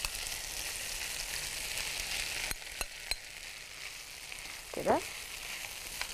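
Potatoes fry in melted butter in a pan, giving a soft, steady sizzle with a few spoon clicks and scrapes. A voice briefly speaks a word.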